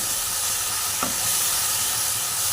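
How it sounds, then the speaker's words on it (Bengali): A mash of water spinach (kolmi shak) being stirred and cooked in a pan, a dense continuous sizzle and hiss with soft stirring scrapes throughout, close and fairly loud, no voices. "এটাকে ভালো করে নাড়তে থাকবেন যেন নিচে না লেগে যায়"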